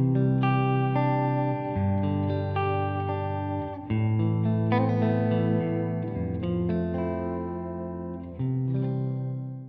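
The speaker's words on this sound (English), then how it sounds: "I'm gonna add a little reverb." Electric guitar chords through a TC Electronic Plethora X5 reverb pedal ring out with a washy reverb tail, played in a slow, sustained pattern with each strum blooming and decaying.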